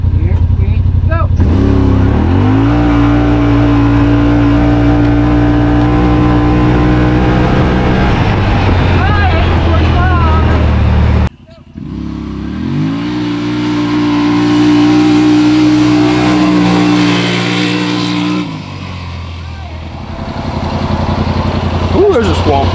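Yamaha Rmax1000 side-by-side accelerating hard in 4-wheel drive, its engine climbing in pitch through two long loud pulls separated by a brief cut, close and dominant, with voices over it.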